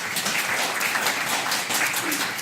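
A seated audience at a Korean translation presentation breaks into steady, dense applause, many hands clapping evenly and close by without pause.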